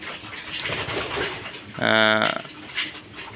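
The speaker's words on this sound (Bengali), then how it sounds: "এটা হচ্ছে মৃদুল ভাইয়ের যে 8-8 কবুতর, 8-8 কবুতরের ইনব্রিড গ্র্যান্ডসন আছে" Racing pigeons in a loft make a low murmur, broken by one distinct, louder coo near the middle and a softer call just after.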